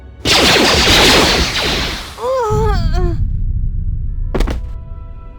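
A burst of blaster-style gunfire rings out in Knights of the Old Republic 2: a loud, dense volley rattles for about two seconds, then a few whooshing, warbling tones follow and one sharp late crack trails off.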